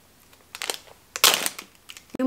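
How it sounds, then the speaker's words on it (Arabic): A plastic shopping bag from an online order being ripped open, with several sharp crinkling tears and rustles in quick bursts, close to the microphone. "يما شقت الكيس."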